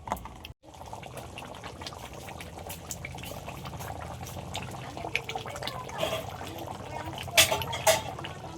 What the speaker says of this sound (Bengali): এবার পরিমাণ মতো জল দিয়ে দিলাম